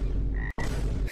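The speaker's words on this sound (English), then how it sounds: "You can squeeze the frog and it sticks its tongue out and its eyes turn red." A frog in the Gorilla Tag video game croaks when squeezed, giving two close, loud, buzzy croaks split by a brief silent gap.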